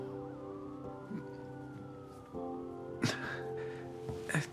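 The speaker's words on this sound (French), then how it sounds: "L'ambulance ne va pas tarder à arriver." A distant ambulance siren wails faintly, rising and falling, while traffic rumbles and a few bumps sound nearby.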